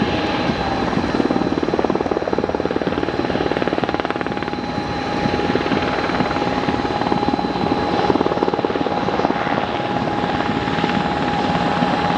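An MH-60R Seahawk naval helicopter comes in to land, its rotor and turbine roaring loud and steady with a constant whine, close and without talk.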